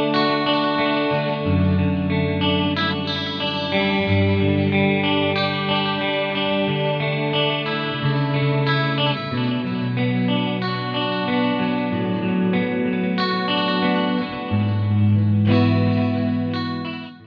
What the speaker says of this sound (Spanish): escuchá micro pitch con el delay